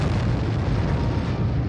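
A gas pipeline section blowing apart after a faulty pressure reading, heard as a dense, sustained roaring rumble with heavy low-end energy and steady loudness, no distinct separate blasts, and no voices.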